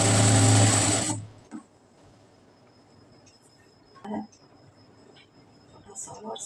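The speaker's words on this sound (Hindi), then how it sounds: "थोड़ा सा और सिल लेते हैं जिससे कि बाहर की सिलाई कम से कम दिखाई पड़े।" An electric sewing machine runs loud and steady for about a second as it stitches cloth, then stops, leaving a quiet room with faint clicks and handling of fabric.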